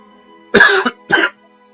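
Two sharp coughs close to the mic, the first longer and harsher, the second shorter, separated by a brief pause.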